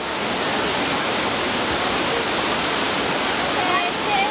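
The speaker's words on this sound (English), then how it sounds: "You see the waterfall?" Waterfall at Cunningham Falls State Park, Maryland, a steady broadband rush of falling water filling the scene at close range, with faint voices of crowds on the trail.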